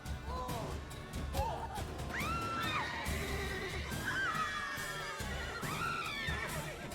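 Horses neigh and whinny repeatedly in a busy, chaotic scene from the video game The Witcher 3: Wild Hunt, with shouting, crashes and clatter mixed in throughout.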